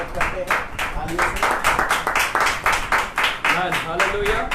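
Congregation clapping and applauding to welcome a servant of God during a Thursday church service, steady dense claps across the whole stretch, close and fairly loud.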